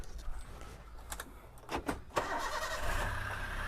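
A Toyota Avanza car engine with a rough-running fault cranks briefly, catches, and settles into a steady rough idle, heard up close.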